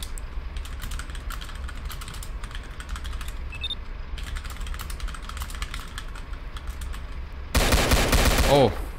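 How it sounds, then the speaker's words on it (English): Gunfire in a Roblox bank robbery erupts as a dense, loud burst of rapid shots near the end, after a stretch of quieter clicking and background game noise. "Oh, shots fired."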